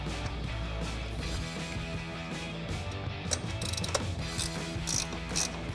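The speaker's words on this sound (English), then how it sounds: "we'll grab our 14mm ratcheting wrench and tighten them down" A 14mm ratcheting wrench tightens nuts on a truck front leveling kit, giving a fast continuous clicking of the pawl with a few harder metallic taps near the end.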